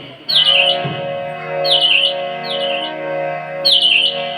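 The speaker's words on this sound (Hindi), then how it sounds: "देखो कितने पंछी खा रहे हैं प्रसाद को" Birds chirp loudly on a rooftop where they are eating a prasad offering, repeated bright tweeting calls over a steady tonal drone.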